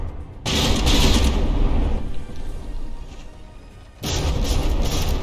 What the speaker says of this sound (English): Those secondary and tertiary guns firing away.